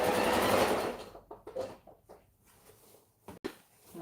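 A sewing machine stitches in one short, fairly loud run of whirring, then fades into faint scattered handling clicks and rustles.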